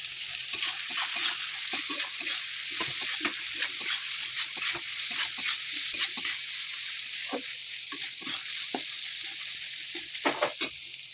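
Peas and cabbage fry in a pan for chow mein, giving a steady close sizzle broken by frequent clattering scrapes and taps of stirring throughout.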